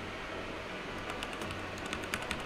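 Keystrokes on a computer keyboard while a BIOS mod file for an RX580 Armor X graphics card is being saved, with a short burst of light, fairly close clicks in the second half over steady background hiss.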